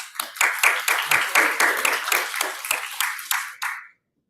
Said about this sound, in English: So I just want to give another round of applause to our amazing core staff